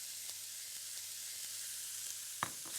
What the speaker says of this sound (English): Coat everything in the oil and let's let that cook down for a while.